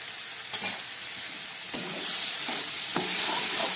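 Cumin and chili powder sizzle in hot oil, a close, steady hiss broken by a few sharp scraping stirs of a spoon in the pan, growing slightly louder toward the end.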